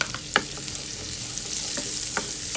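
Garlic sizzling in a mix of melted butter and oil in a pan, a steady close hiss with a few sharp clicks of a utensil against the pan.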